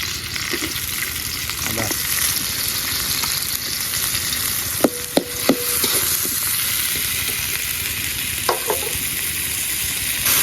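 Onions sizzle and fry in hot oil in a pan on a gas stove while cooking a pre-dawn Ramadan sehri meal, a loud, constant crackling hiss with a few sharp clicks of stirring.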